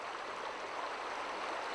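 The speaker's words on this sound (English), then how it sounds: "Two becks, Oughtershaw and Greenside, merge at Beckermonds to form the Wharf proper." Steady rushing and gurgling of two Yorkshire Dales becks, Oughtershaw and Greenside, merging at Beckermonds in Langstrothdale, a soft continuous flow heard alone at moderate distance.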